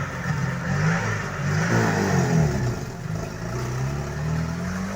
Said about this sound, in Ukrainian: машинка уезжает